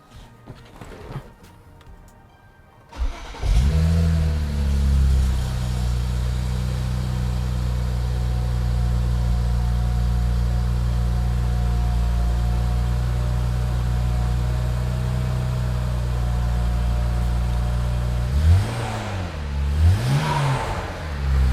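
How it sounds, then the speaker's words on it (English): BMW 335i with N54 engine cold-starts after a few faint clicks: a sharp cranking catch, then a loud, steady high idle that holds for many seconds before two brief revs near the end. "And we'll give the car a start up and just see if it runs properly."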